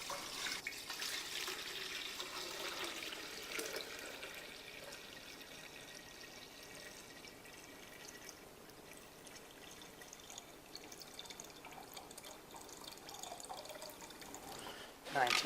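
Water pours steadily into a bucket sitting on a lab scale, a continuous splashing wash running for most of the stretch and easing slightly partway through, with no talk over it.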